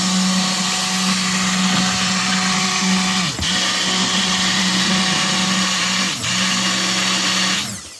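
A stick blender whirs continuously and loudly through hot process soap batter as it thickens to trace, its motor note dipping twice briefly as it is moved, then cutting off at the end.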